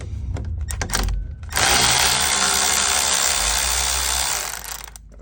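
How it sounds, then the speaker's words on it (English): A power tool whirs loud and close as it spins bolts out of a car transmission, with a few short bursts first and then one long sustained run before it winds down. "Definitely need power tools if you're gonna work on your cars."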